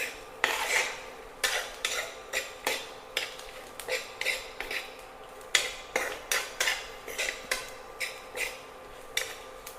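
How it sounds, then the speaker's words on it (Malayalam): A spoon clinks and scrapes against the pan in a steady rhythm, about two strokes a second, as a potato mezhukkupuratti stir-fry is stirred with coriander leaves. The strokes are close and sharp over a quiet background. "നമുക്ക് മല്ലിയിലായിട്ട് ഒരു മിനിറ്റ് ഇളക്കി കൊടുക്കാം"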